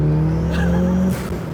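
A turbocharged Mitsubishi Eclipse GSX engine holds a loud, steady rev close by, then drops off with a brief hissing release from the blow-off valve.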